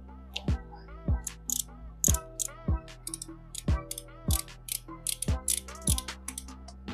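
Ratchet wrench clicking in repeated bursts while loosening a bolt on a motorcycle brake fluid reservoir, close and fairly loud, sharp ticks in short rhythmic series with no talk.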